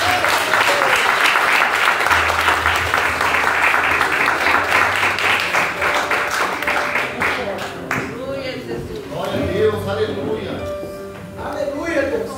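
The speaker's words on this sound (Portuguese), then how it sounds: "E a igreja louva ao Senhor com as palmas." A church congregation claps in steady rhythmic unison while praising, the dense clapping filling the room for several seconds before giving way to a voice speaking over scattered applause.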